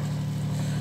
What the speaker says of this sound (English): The sound you're hearing at the moment is the sound of the engine